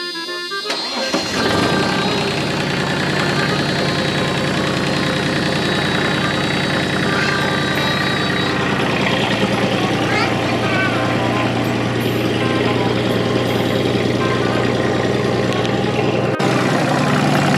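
A mini excavator engine cranks and fires on its first attempt, then settles into a loud, steady diesel idle that runs close by for about fifteen seconds before cutting off abruptly near the end.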